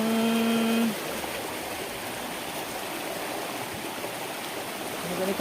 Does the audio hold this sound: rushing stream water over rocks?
yes